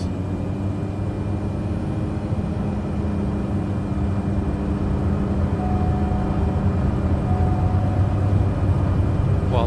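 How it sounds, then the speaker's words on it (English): A turboprop aircraft engine steadily powering up for takeoff with flaps set, a continuous low droning roar with faint tonal whine that grows slightly louder over time. "Okay, takeoff. Flaps to takeoff position, power lever, smoothly advance."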